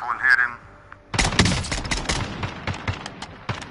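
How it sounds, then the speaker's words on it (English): Rifle gunfire in a first-person video game. A thin tone and a short quiet stretch give way to a loud, close burst of rapid shots, followed by scattered single reports and rattling echoes. "Here, I'll get my regular rifle and hit him."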